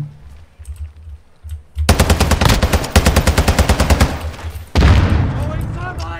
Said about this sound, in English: Do you hear all these gun sounds?